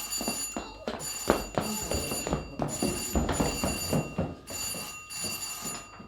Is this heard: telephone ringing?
yes